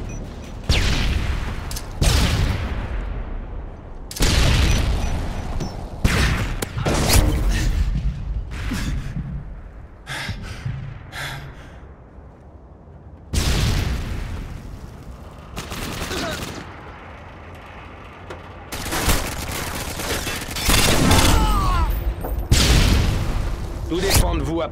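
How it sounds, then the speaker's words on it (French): Stun grenade blasts and bursts of gunfire in a search-and-destroy video game match, with repeated loud booms and rapid firing spread across the clip, separated by quieter stretches. "Grenade paralysante."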